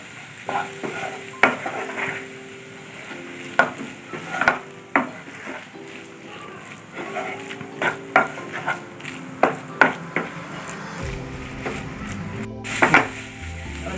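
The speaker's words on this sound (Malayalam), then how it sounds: "നന്നായി ഒന്ന് ഇളക്കി ഒന്ന് മിക്സ് ചെയ്യുക എല്ലാ പച്ചമണക്കൊന്ന് മാറുന്നവരെ ഇളക്കി കൊടുക്കുക" Chili, turmeric, coriander and cumin powders are stirred through chicken in a hot pan for chicken tikka. Rhythmic spoon scrapes and taps land repeatedly over a continuous close sizzle.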